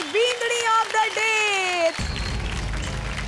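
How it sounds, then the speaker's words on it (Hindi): A studio audience at a televised dance show bursts into applause, heard as a short wash of clapping that follows a presenter's animated voice and runs to the end. "वो जोरदार तालियां"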